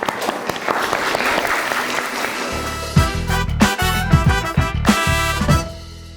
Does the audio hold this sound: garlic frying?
no